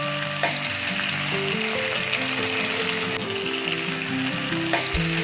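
Doddapatre (Indian mint) leaves fry in a hot pan for an Indian chutney, giving a loud steady sizzle with crackles and occasional stirring scrapes close up, with no talking.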